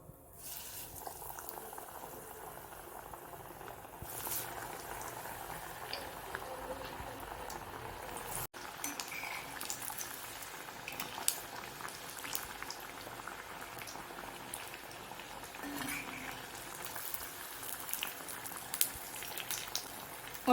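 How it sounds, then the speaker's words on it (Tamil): Tapioca cutlets shallow-frying in oil on a dosa griddle, giving a steady soft sizzle and bubbling that runs throughout at moderate level, with small crackles and pops scattered across it. "ஒரு பக்கம் நல்லா ஃப்ரை ஆயிடுச்சு."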